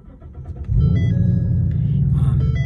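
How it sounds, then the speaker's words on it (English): A Ford Mustang engine cranks and catches, then settles into a steady, loud low rumble at idle, close up with no talk over it. "Actually, I'm going to start my car."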